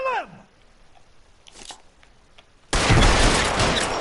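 Gunfire in the L.A. Noire video game: a few scattered sharp shots, then a sudden dense, loud barrage of rapid firing that continues to the end.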